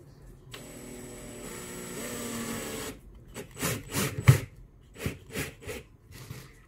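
A screw is tightened to fasten a motor onto a base for a homemade cup turner: a steady mechanical whir for about two seconds, then a series of close, short knocks and rubbing clatters.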